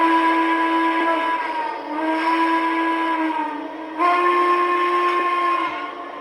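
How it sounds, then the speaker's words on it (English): Default whistle of a Lionel Vision Line Legacy triplex model steam locomotive, a sustained multi-chime steam whistle sounding in three long blasts with slight pitch bends, loud and close with no talk. "Let's check out the whistles on this Lionel Vision Line Legacy locomotive."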